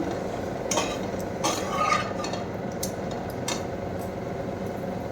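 Cumin powder stirred into a pan of sautéed vegetables for a bitter gourd, potato and katla fish shukto, with steady scraping and light sizzling plus a few sharper spoon-on-pan clinks, close by.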